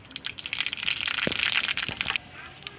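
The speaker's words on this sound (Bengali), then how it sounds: "এই তেলে আমি সর্ষে ফোড়ন দিয়ে দিলাম" Mustard seeds splutter and crackle in hot oil left from frying fish, a busy, bright spattering with sharp pops that swells and then drops away.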